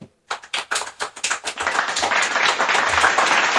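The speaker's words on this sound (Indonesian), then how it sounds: "Beri tepuk tangan dulu dong." A small audience claps at an Indonesian Ramadan talk event, starting with a few distinct separate claps that quickly build into fuller, continuous applause close by.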